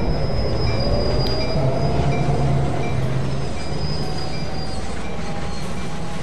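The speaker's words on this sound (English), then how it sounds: "the train departing." A GP38-2 diesel locomotive pulls its full consist away in Train Sim World, with a steady loud rumble of wheels on rail, faint squealing and a low engine drone running unbroken throughout.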